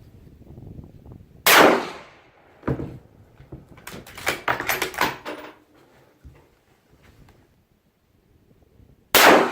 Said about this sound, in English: take a few shots and without a suppressor